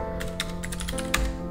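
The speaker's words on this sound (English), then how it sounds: "let's actually check if Tony has sudo privileges by typing su Tony" Keys tapped on a computer keyboard while entering a su command in a Void Linux terminal, a short burst of a few close, crisp clicks over a steady hum.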